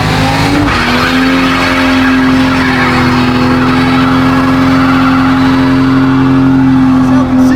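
A car doing a burnout in second gear: a loud, steady engine roar held at high revs with screeching tyres, continuous and close throughout.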